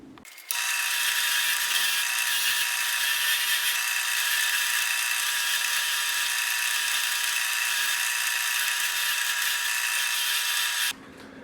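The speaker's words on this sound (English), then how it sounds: "then we'll take this over to the brass wheel, and then we'll get her all cleaned up" A Stanley 99 side rebate plane's parts held against a spinning brass wire wheel give a steady, loud high-pitched whirring grind that runs unbroken for about ten seconds, starting and stopping abruptly, with no talk.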